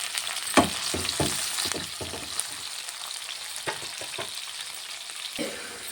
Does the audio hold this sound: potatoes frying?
yes